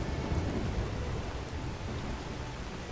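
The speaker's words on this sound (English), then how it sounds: "it's raining now." Heavy rain pours in the Enderal game world, a dense, constant hiss with low rumbling thunder underneath, steady and close with no voices.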